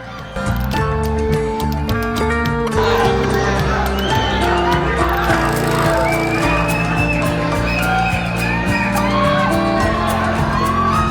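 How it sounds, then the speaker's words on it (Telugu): A large crowd at a movie promotion event whoops, yells and cheers loudly and continuously, close by, with many voices overlapping throughout. "మన వాళ్ళు మాత్రం చాలా గట్టి అరుస్తున్నారు."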